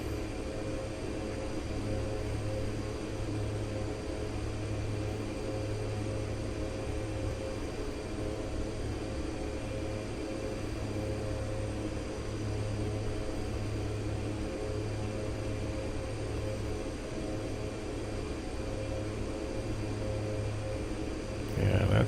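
Steady aircraft engine drone from the X-Plane flight simulator game, a continuous even hum with a faint pulsing low tone that runs throughout without pause.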